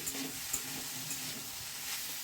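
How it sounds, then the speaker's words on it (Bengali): Winged beans with salt and turmeric are stirred in a frying pan. A soft, steady sizzle runs throughout, with faint light scraping from the stirring and no talk. "এখন এটাকে ভালো করে নেড়ে চেড়ে দিচ্ছি"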